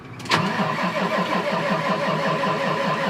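A farm vehicle's engine cranks and catches after a fuel pump switches on, then settles into a steady, close, rhythmic idle with a pulsing low throb.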